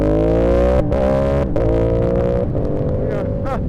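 A Yamaha R7 motorcycle engine revs loud and close, its pitch climbing, then dipping sharply at a quick-shifter false shift, with brief cuts between pulls.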